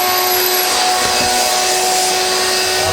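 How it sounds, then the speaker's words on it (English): A vacuum sucks water out of a Thermador Bosch dishwasher with a frozen pump, a loud, steady, close-up whining roar that runs unbroken for the whole stretch. "I sucked all the water out of here"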